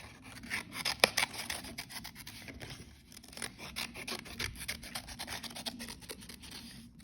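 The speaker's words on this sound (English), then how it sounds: "You're then going to very carefully cut that shape out." Scissors cut out a paper insect shape, making quiet, close snipping and scratchy paper sounds in an uneven, continuous run of small cuts.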